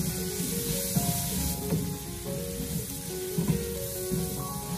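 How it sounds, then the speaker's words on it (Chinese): Onions being stir-fried over medium heat in a wok: a continuous close sizzle with scraping and tossing noises rising and falling throughout, under soft background music. "把洋葱给它翻炒均匀"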